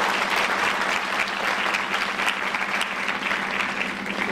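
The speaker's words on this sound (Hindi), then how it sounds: "ताली बजा कर परमेश्वर को धन्यवाद" Steady, dense clapping from a church congregation fills the space, loud and continuous throughout with no pauses.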